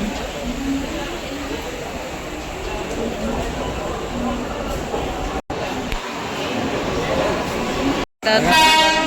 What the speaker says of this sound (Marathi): इकडून ही लोकल ट्रेन जाते